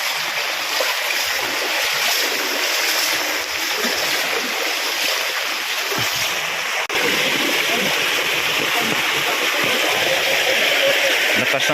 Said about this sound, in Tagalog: Malakas ang agos dito sa kalsada.